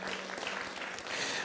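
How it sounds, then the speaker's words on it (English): A room full of guests at a 40th birthday celebration claps in a dense, even burst that lasts only a moment. "I think he deserves a round of applause tonight."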